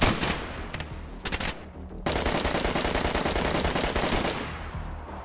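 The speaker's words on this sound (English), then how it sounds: "I'm shooting zombies." Sustained gunfire at zombies in the survival game DayZ: a few sharp early shots, a brief pause, then a long, unbroken stretch of rapid automatic fire, loud and close.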